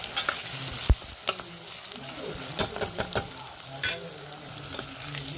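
Spiced food frying and being stirred in a pan with chili powder, turmeric, garam masala and salt: a steady close sizzle broken by scattered scrapes and clatters of a spoon against the pan.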